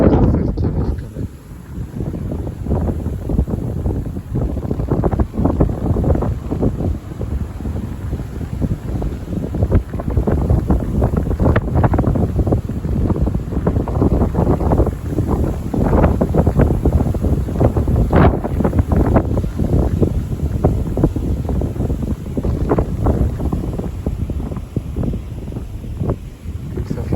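Strong wind gusts during a January winter storm with snow, heard as a loud continuous rushing roar with surging gust peaks buffeting the microphone throughout.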